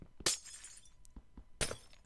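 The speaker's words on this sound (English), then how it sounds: "Let's knock out these windows." Glass windows shattering in Minecraft, two loud, crisp breaking crashes about a second and a half apart, each with a bright ringing burst that quickly fades, with faint clicks between them.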